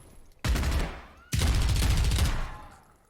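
Desert Eagle pistol fire in the game Zero Hour, heard as two loud, close bursts of gunshots with echoing tails, separated by a short gap.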